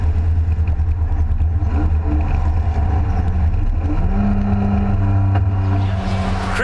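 Race cars on a circuit at the end of a race, a dense, continuous engine roar from several cars with a steady higher engine tone emerging near the end, loud and close.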